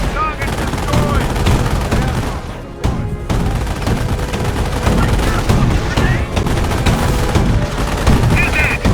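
Dense battlefield gunfire from the Company of Heroes game, Operation Market Garden campaign: continuous loud volleys and bursts layered with booms, music and shouted voices throughout.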